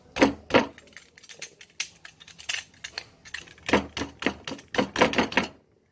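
A utility knife repeatedly stabs and chips at a hard block of ice, sharp cracking impacts arriving in irregular quick bursts, close and crisp against near silence.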